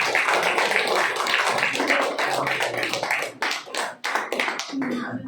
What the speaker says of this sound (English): One huge round of applause for the volunteers.